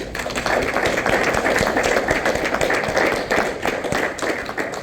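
Applause at a Masonic lodge meeting, a room of people clapping steadily and fairly close for several seconds.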